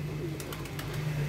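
A pigeon gives a brief, soft coo against a steady low hum and background noise outdoors.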